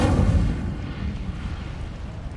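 A burst of the Incendio fire spell in Hogwarts Legacy, a single heavy low whoomp that flares at once and then settles into a rumbling, crackling roar of flame that slowly fades.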